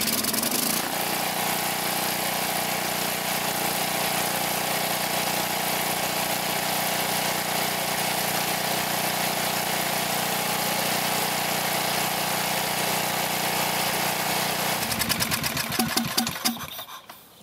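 A Coleman Vertex 7500 watt generator with low power output runs at a steady, even drone close by, its hum holding constant before a brief change near the end.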